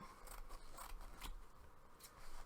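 Scissors snip through the excess edge of an adhesive fabric patch on a pair of jeans, giving a few close, crisp cuts in a short series, with no talking.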